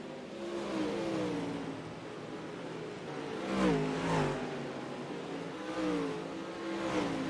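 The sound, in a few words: dirt late model race cars racing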